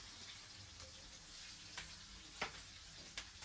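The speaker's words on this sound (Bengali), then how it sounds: "এখন আমি এগুলো সুন্দরভাবে ভেজে নিব লাল লাল করে।" Chopped onions and green chilies fry in a hot pan for a cabbage and fish stir-fry, giving a steady close oil sizzle broken by a few sharp crackling pops.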